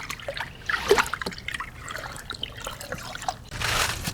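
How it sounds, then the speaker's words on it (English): A small scrub brush works over car floor mats that have soaked in a tub of soapy water, giving wet, sloshing brushing strokes and dribbles, close up and uneven. "And I'll just go over them with a little scrub brush now."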